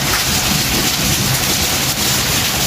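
Heavy rain pours down in a steady, dense, loud roar that stays constant and unbroken for nearly three seconds, with no voices.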